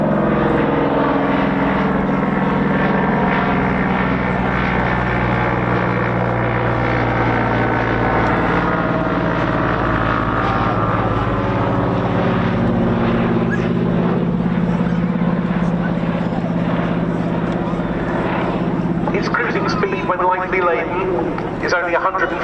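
A slow WWII Fleet Air Arm biplane flies at an air show, its propeller engine droning loudly and steadily throughout with a slowly shifting pitch, under continuous commentary talk.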